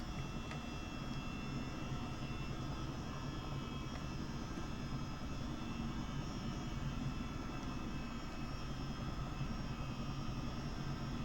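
Twin turbine engines of a Chinook helicopter in Microsoft Flight Simulator drone on in a steady, dense whine and rumble, loud and unbroken for the whole stretch with no talk.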